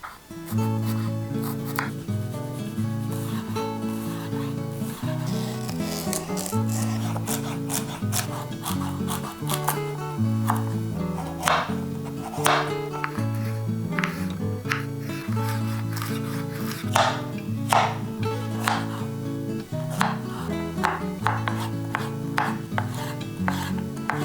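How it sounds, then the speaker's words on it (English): Rhythmic knife chops of vegetables, including green onions, on a cutting board, irregular taps scattered over steady background music, growing busier toward the middle. "now we're going to get the chopping started"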